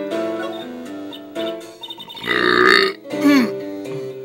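One loud, drawn-out burp near the middle, followed by a second shorter one, with voiced sounds and a bit of game music before it.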